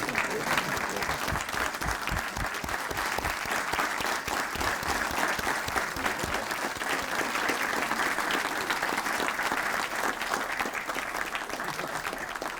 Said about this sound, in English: can we also give them a warm round of applause when we are standing?